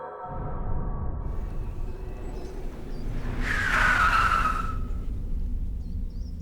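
A car idles and rumbles, then its tires squeal loudly in a long skid for about a second and a half as it brakes to a stop, the engine noise continuing after.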